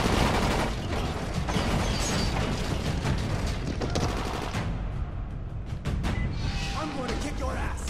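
Dense gunfire in the video game Dying Light, a loud sustained barrage of rapid shots and booms filling the scene, with voices shouting over it.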